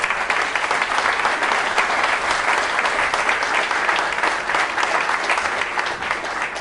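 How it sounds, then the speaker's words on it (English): A rousing round of applause from the audience at a Springfield funding announcement with Governor Baker and Mayor Sarno: dense, even clapping from many hands, loud and steady throughout with no pause. "I think he deserves a rousing round of applause."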